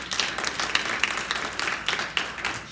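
A room of business huddle attendees applauds, a continuous, fairly close patter of many hands clapping that holds for a few seconds.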